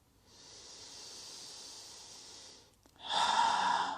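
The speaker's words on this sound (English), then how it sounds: "just dropping into your breath. Take it nice and easy, nice and gentle. Inhale. Exhale." Slow deep breathing in a yoga class: a long soft airy inhale lasting over two seconds, a short pause, then a louder, breathier exhale, close and alone.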